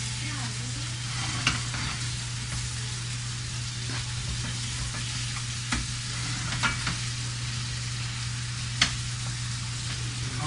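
Tomato sauce with vegetables simmering in a pan over a medium-high flame, a continuous soft sizzle and bubbling with a steady low hum beneath and occasional small pops and clicks, close by and even, with no talking.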